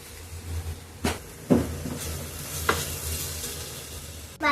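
Vegetables and grated paneer for momos sautéing in a pan, a soft steady sizzle with a few sharp scraping stirs of a spatula, close and alone with no talk.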